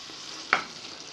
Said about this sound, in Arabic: هنزل عليها وهقلبها، هقلب التوابل فيها، لازم نقلبها كويس عشان اللحمه تبقى متبله